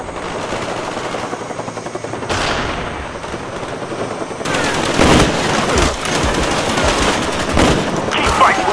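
Rapid automatic gunfire from a Call of Duty Black Ops team deathmatch on the Jungle map, loud sustained bursts and volleys with a helicopter-like drone beneath, intensifying in the second half.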